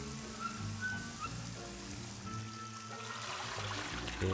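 Steady rushing and splashing water in Luigi's Mansion 3, like a continuous stream pouring down, with a busy mix of other game sounds layered over it.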